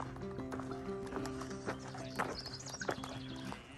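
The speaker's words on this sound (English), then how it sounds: "I got some real live cattle to deal with" Cattle on a hiking trail, hooves shuffling close by with a low lowing call rising over them, steady background noise and no talking.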